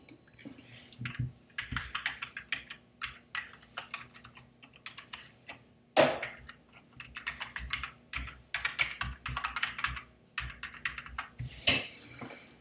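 Someone types a school email on a computer keyboard close by, with fast bursts of crisp clicking keystrokes, brief pauses between runs and a few louder key strikes.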